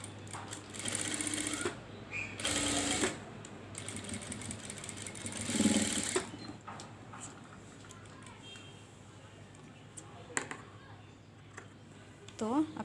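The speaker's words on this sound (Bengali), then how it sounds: "এখানে আমি ডাবল সেলাই দিয়ে দিব" A sewing machine double-stitches a zipper onto the back of a dress in several short close bursts of rapid whirring, with pauses between them and someone talking throughout.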